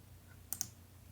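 A computer mouse clicks twice in quick succession while browsing recorded events, short and crisp over a faint steady room hum.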